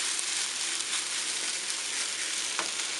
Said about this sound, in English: you hear it crisping up, frying nicely